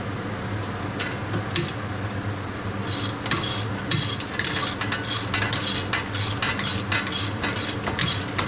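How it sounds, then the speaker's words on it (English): Ratchet wrench tightening a bolt on the brake backing plate of a 2018 Chevy Malibu, a few clicks early, then a long run of rapid, close, rhythmic ratcheting bursts. "I'm not going to tighten it all the way because I want that last bolt."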